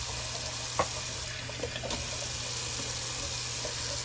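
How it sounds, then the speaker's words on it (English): Cold water runs steadily from a bathroom sink tap as a rinse after a shave, a continuous close splashing hiss with a few faint clinks and no talk. "do a cold water rinse"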